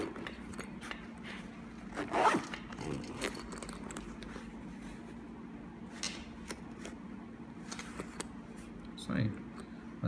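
A zipper on a pistol carry case with a padlock slot runs in a few short, close pulls with light scraping and handling noise, while someone talks over it.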